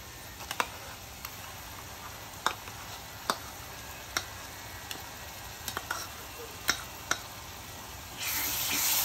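Green masala paste stirred in a hot pan gives a faint, steady sizzle under sharp, scattered spoon clicks and scrapes, with a louder burst of frying hiss at the very end.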